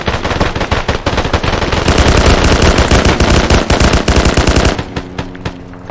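Automatic rifle and machine-gun fire in Arma 3, with dense, loud rapid bursts of close shots running almost continuously and then thinning to a few scattered reports near the end.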